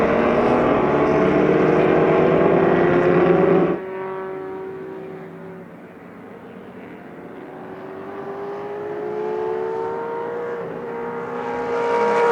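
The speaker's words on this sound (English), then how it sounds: "The Shelby out front, being chased hard by the Ferrari." Shelby and Ferrari 275 GTB classic race cars battling on track, engines roaring loudly up close, then the pitch drops and fades briefly before rising again as the cars pass and accelerate.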